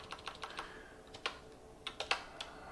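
Arrow keys pressed on a computer keyboard in a BIOS menu: a series of soft, quiet key taps, some in quick pairs and others spaced out, fairly close.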